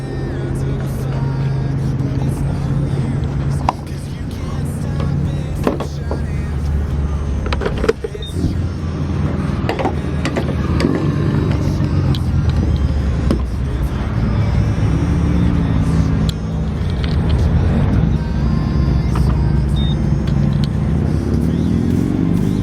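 A Nissan 370Z that has been making smoke, driven along with a steady, loud engine and road drone that continues throughout, with a few small clicks and knocks.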